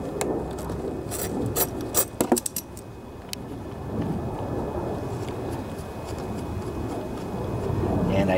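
Ratchet wrench fitted with a 10 mm socket loosening carburetor bolts on a Honda Harmony lawnmower, bursts of close clicking and metallic rasping followed by quieter rubbing and handling noises, with no talking.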